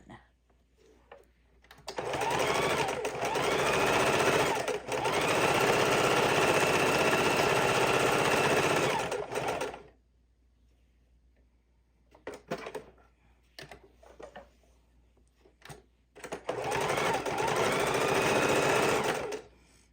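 A sewing machine stitches the rows of a fidget quilt, loud, steady whirring runs of rapid stitching close up, broken by a pause with a few short bursts before running again.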